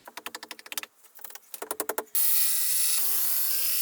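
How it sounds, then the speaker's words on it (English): A rapid series of sharp clicking bursts, then a loud, steady high-pitched whine of a power driver running continuously, close by, driving screws into wooden joists during a loft conversion. "I'm just going to put a few screws through that now and fix those into place."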